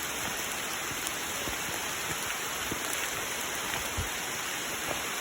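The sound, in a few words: rain falling on a mountain trail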